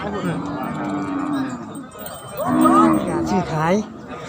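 Cattle at a Thai livestock market low with loud, drawn-out moos, two calls up close over a busy background murmur of the market.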